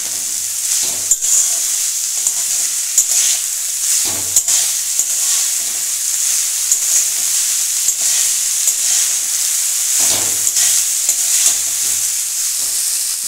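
Chopped banana flower frying with spices in a pan gives a steady, loud close-up sizzle and hiss, broken now and then by stirring scrapes, with no talk.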